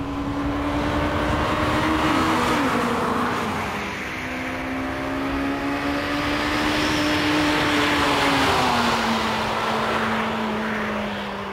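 A Honda Civic Type R EK9 engine pulls hard in a sustained, loud, high-pitched rev that climbs through the gears, with brief dips at each shift and a steady rising whine heard from inside, no voices.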